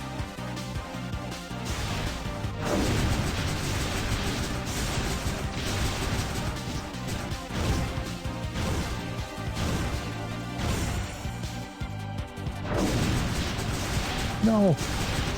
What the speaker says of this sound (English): Just kind of coax those guys to drop the bombs on me.